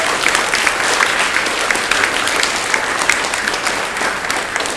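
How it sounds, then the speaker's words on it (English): An audience applauds award winners at a school library ceremony, dense steady clapping filling the room throughout at close, loud level. "Let's give them one more round of applause."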